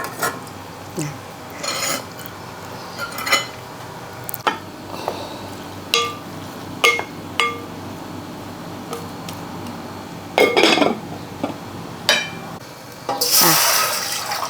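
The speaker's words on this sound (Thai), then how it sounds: "แค่ล้างนะคะ แล้วก็เอาขึ้น แล้วก็ล้างมีดเราค่ะ" A knife is rinsed under a running tap while making mango sticky rice jelly, with intermittent splashing and clinking water bursts close by and a louder gush of flow near the end.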